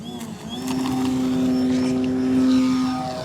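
An E-flite Apprentice STS 1.5 m RC airplane takes off at full throttle, its propeller motor holding a loud, steady whine close by that rises slightly as the plane gets airborne, with outdoor background noise.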